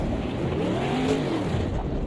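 An LMDH prototype race car sweeps past in a sim racing game, its engine tone rising and falling in a smooth arc over a steady rushing roar of track noise.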